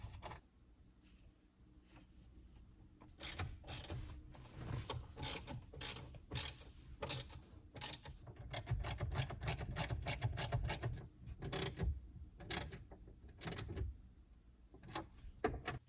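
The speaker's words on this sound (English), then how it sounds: "now we can put these little screws in" Small screws being fitted by hand into the blend door of a pickup truck's heater box, heard as a quiet sequence of irregular ratchety clicks and mechanical rattles, denser in the middle, with no talking.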